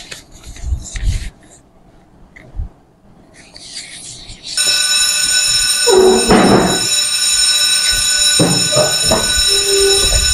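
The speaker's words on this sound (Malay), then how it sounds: "Itu bunyi loceng kecemasan." A school emergency bell starts abruptly during a fire drill and then rings loud and continuously. Voices talk and call out over the steady metallic ringing.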